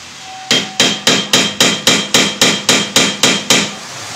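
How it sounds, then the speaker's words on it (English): Twelve evenly spaced, sharp metallic hammer taps strike a screwdriver held in a stuck Phillips screw, loud and close with a short ring after each blow. "Put a little bit of pressure and a hammer."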